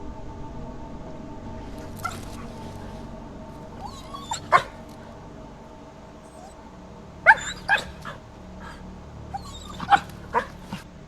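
A dog in a forest at night gives a few scattered barks and yips, sharp and fairly close, separated by long quiet stretches over a low steady background hum.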